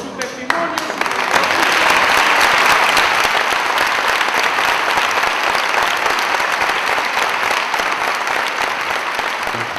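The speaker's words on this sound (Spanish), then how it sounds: "Y además pido un cerrado aplauso por su testimonio." An audience at a memorial event breaks into sustained, loud applause after a sharp start, with a dense, steady clapping roar that continues throughout.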